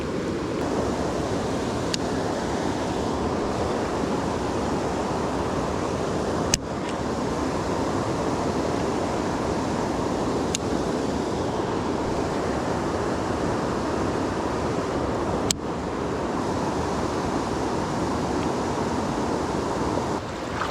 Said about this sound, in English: This water is just flowing too fast to throw this.